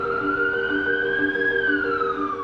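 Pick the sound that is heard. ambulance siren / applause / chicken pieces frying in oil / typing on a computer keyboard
ambulance siren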